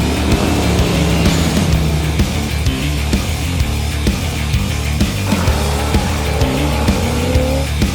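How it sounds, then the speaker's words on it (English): Trucks drag racing at Holley LS Fest, LS-engined pickups roaring with heavy, droning engine tones and rising revs, a loud, continuous motorsport din with tire noise and passing vehicles. "We're out here at Holley LS Fest 2024 doing a little bit of drag racing"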